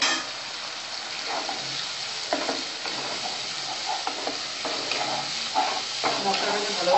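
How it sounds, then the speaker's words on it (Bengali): Ground cumin and garam masala fry for a raw-banana kofta curry, giving a soft, steady sizzle with repeated scraping stirs that come close together throughout. "মশলাটাকে ভালোভাবে কষাতে হবে মশলার সাথে।"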